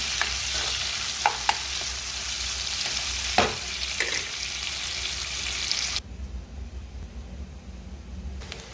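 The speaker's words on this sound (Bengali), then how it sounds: "টমেটো, আদা, রসুন, পেঁয়াজটা ভাজা হোক" Tomato, ginger, garlic and onion fry in a pan for a prawn and green jackfruit dish, with a dense, close sizzle and a few stirring knocks, then a sudden drop to a quieter, duller hiss for the last few seconds.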